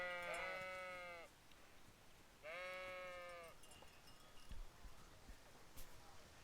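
Two clear, loud sheep bleats from the video game Kingdom Come: Deliverance, one right after the other, followed by faint rustling and a few soft knocks.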